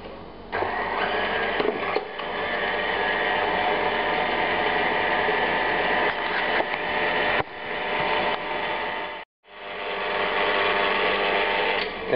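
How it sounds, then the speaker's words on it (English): A stand mixer kneads restaurant-style pizza dough made with flour, salt and olive oil, giving a steady, loud mechanical whir that briefly cuts out and restarts near the end, with no talking. "Now we'll move it to the mixer."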